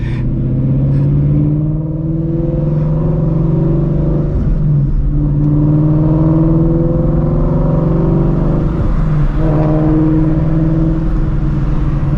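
Straight-piped Ford Shelby GT350 V8 under hard pulls, a loud sustained engine roar with rising and falling revs, heard from inside the car with no talk.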